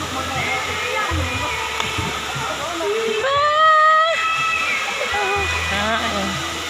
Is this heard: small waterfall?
yes